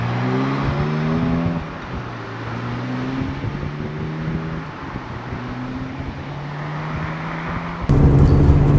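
A Ferrari 360 Spider drives on a windy, cold hilltop road in Buckinghamshire, its engine note rising and falling through gear changes under steady wind rush, swelling louder near the end.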